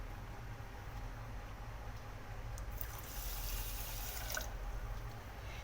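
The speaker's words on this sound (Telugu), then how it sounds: "ఈ షుగర్లోకి అదే కప్పుతోటి 1 కప్పు వాటర్ తీసుకుందాము." Water is poured from a cup into sugar for a sugar syrup, making a faint, steady trickle that swells a little toward the end over low background noise.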